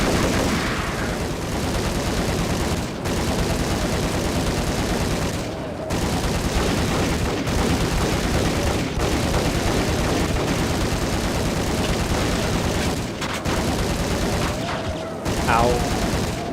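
Dense, continuous gunfire from the PS2 version of the video game Max Payne, a loud sustained fusillade of overlapping shots with a few brief breaks, with no speech.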